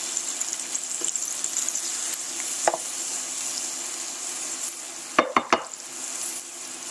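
Lemon rind sizzles steadily in hot cooking fat, a continuous hiss with a few sharp pops and utensil clacks near the end, no voices.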